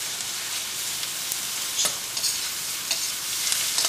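Ginger garlic paste fries in a hot pan with steady, bright sizzling while a spoon stirs and scrapes through it, giving a few sharper scraping accents over the continuous hiss.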